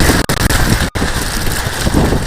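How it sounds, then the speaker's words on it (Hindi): Steady, heavy wind on a mountaintop buffets the microphone with a loud, dense roar, interrupted by a brief dropout near the middle. "ये देख रहे हैं कितनी तेज हवा है।"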